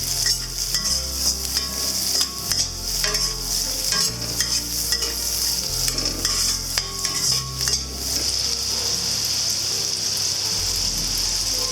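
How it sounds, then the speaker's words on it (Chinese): Carrots and scallion whites hiss in hot oil in a wok, a spatula scraping and clanking against the metal in repeated strokes, close and loud with a continuous sizzle underneath. "再倒入红萝卜翻炒"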